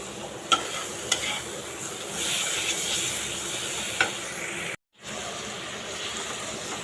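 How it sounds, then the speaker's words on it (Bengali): Potatoes being sautéed for a curry gravy give off a steady, fairly quiet frying sizzle, with a few sharp clinks of a stirring spoon against the pan and a brief dropout near the end. "এইখানে আলু দিয়ে ঝোলটাকে মানে ঝোলের প্রিপারেশনটাকে কষাচ্ছি"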